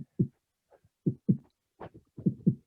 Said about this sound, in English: Can you hear this heartbeat?